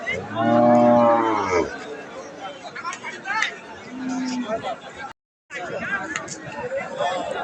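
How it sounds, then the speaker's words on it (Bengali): Cattle low loudly at Ambari livestock market in Dinajpur district, one long deep moo up close, followed by a steady murmur of crowd chatter and a second, fainter moo. "আমরা রয়েছি দিনাজপুর জেলার আমবাড়ি হাটে আর দেখছি শুকনো হাড্ডি সার গাভিগুলো"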